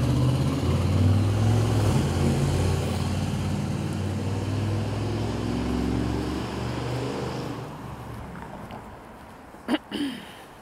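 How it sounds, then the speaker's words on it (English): A car's engine rumbles steadily as it drives past on a street during a walk, loud at first and slowly fading into the distance. "The car again."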